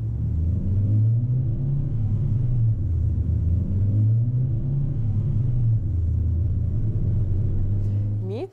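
A Hyundai i10 with a robotized manual automatic gearbox pulling through city traffic, its steady low engine drone rising and easing in waves as gears change, close and loud throughout.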